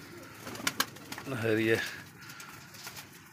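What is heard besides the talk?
pigeons cooing in a pigeon house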